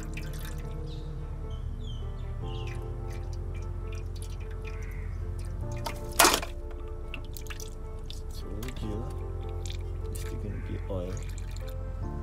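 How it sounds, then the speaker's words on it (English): Transmission oil dripping from a Mercedes W210 with an M111 engine and 722.6 automatic gearbox during a fluid change, soft repeated drips over a steady low hum, with one sharper splash. "still gonna have oil dripping here"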